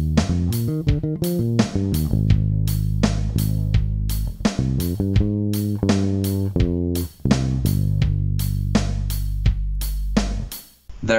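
An electric bass plays the bridge of a song in a steady groove, with deep plucked notes alternating between sustained tones and quick rhythmic runs, loud and close throughout.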